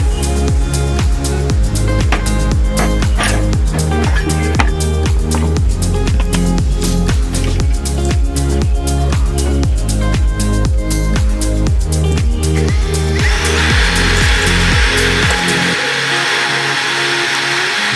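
A Laxton LX-18 brushless drill bores into an iron plate with a loud, steady motor whine and a pulsing load, shifting to a harsher hiss near the end.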